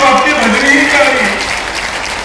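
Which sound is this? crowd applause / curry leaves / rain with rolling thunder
crowd applause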